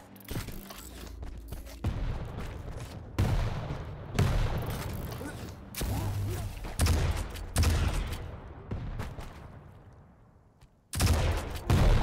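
Gunfire in a first-person video game duel, with shotgun and rocket fire between two players: bursts of heavy shots and booms come in repeated loud clusters with brief pauses, and a fresh burst starts near the end.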